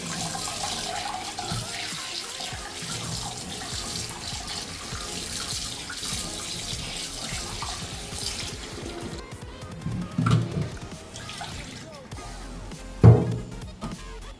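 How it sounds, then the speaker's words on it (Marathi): Pomfret fish is washed under running tap water, a steady close hiss of the stream with splashing that swells into louder sloshes near the end, and no voices. "आता पापलेट बरी धुवून घेवपाची."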